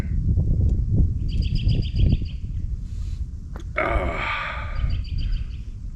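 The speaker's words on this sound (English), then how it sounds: "We actually got some birds out singing." Birds sing on a breezy, chilly morning at a truck campsite, with repeated bright trilling phrases and a longer burst of song over low wind rumble and handling noise.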